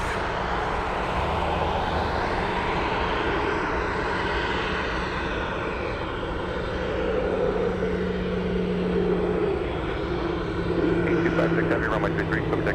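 A heavy jet takes off from runway 33 at Anchorage airport, a steady broad engine roar holding across the whole stretch and swelling slightly near the end, with voices talking beneath it.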